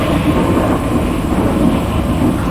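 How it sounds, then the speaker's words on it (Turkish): Rain pours continuously in the video game GTA 5, with a heavy rumble of thunder, loud and unbroken throughout. "Yağmur yağıyor yağmur."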